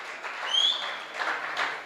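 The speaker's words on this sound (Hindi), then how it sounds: "तालियां यार कम से कम बजा दो तो सही बुड्ढे के लिए" Audience at a Hindi comic poetry recital clapping for an elderly performer, a short, moderately loud patter of applause with a thin whistle-like tone near the start.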